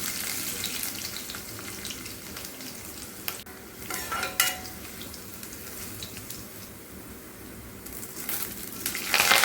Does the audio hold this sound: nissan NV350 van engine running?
no